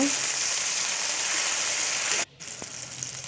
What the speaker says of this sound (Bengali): দিয়ে দেব থেতো করে রাখা রসুন কাঁচা লঙ্কা ভালো করে ফ্রাই করে নেব।